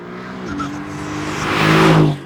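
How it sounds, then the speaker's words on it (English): A 2018 Mercedes-AMG GT C turbocharged engine revs up and accelerates, the tone rising and growing louder before cutting off abruptly near the end. "The engine is a monster, it's got a great soundtrack, it's turbocharged, but it still sounds fantastic."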